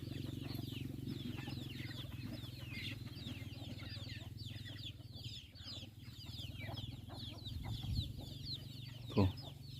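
A flock of farm chickens cluck and chatter continuously at an early-morning vegetable garden, close and steady over a low constant hum, with a brief louder thump near the end.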